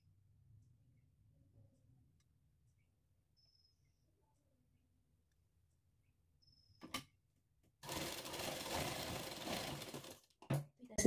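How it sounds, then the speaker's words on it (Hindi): Home sewing machine stitching a readymade cord onto fabric, a few seconds of near silence and a short click, then a close burst of motor whirring and brief stops and starts. "देखिए रखकर सिलाई लगा लेनी है।"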